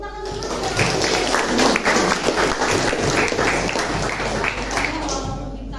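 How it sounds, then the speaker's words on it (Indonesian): Classroom applause from students during a teacher's lesson, steady clapping filling the room for several seconds with some voices mixed in. "Beri tepuk tangan dulu."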